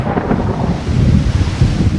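Deep, continuous rumbling thunder from a desert monsoon thunderstorm rolls on without pause, loud and close, with a wash of rain and wind noise over it.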